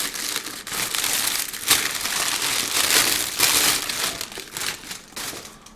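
Paper wrapping on a limited Jura whisky bottle crinkling close up, continuous dry crackling and rustling with louder crunchy bursts as it is handled, alone without voices.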